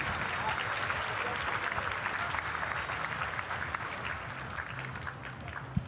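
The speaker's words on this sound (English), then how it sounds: "How about a round of applause for these ladies getting things started on day 3?" Spectators applaud the women's 400m freestyle heat swimmers on day 3 of the Pan Pacific swimming championships prelims, a broad, steady patter of clapping from a large crowd in a natatorium, with a voice murmuring faintly beneath.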